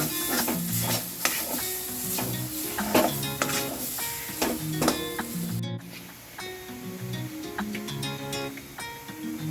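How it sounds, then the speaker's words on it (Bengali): Kachori filling being stirred in a pan over low gas: a spoon scrapes and clinks against the pan in an uneven rhythm over a soft, continuous sizzle, close and fairly loud. "এটা দিয়ে এবার নাড়তে হবে, নিচে না ধরে যায়।"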